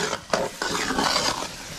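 Sugar being stirred into semolina sheera in a large wok, with close scraping spoon strokes against the pan and a soft sizzle underneath, a few distinct scrapes standing out.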